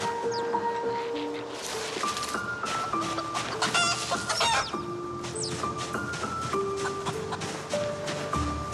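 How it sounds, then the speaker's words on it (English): Hens and a baby chick clucking in the Project Zomboid video game, including a leghorn hen, with steady overlapping clucks and chirps throughout, fairly close, over faint game ambience. "There's a baby chick."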